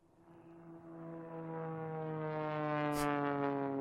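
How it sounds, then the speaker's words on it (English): A propeller airplane drones steadily louder as it approaches, its low harmonic hum swelling to a peak near the end. "I want an airplane sound. Boom. Propeller blast by."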